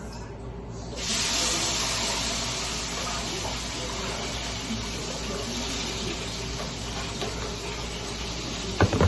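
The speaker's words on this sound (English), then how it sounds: "hear that crispy sound? And the oil is hot, and you see it stir frying" Loud, continuous sizzling and hissing of vegetables stir-frying in hot oil, steady throughout, with a few clatters at the end.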